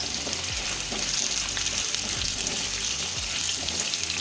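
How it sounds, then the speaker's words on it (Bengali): Cut potato and pumpkin frying and being stirred in a pan, a steady sizzle with scraping stir strokes recurring about every second, moderately close and with no talking. "এবার এর মধ্যে কেটে রাখা আলু আর কেটে রাখা কুমড়ো দিয়ে একটু নেড়ে চেড়ে নেব।"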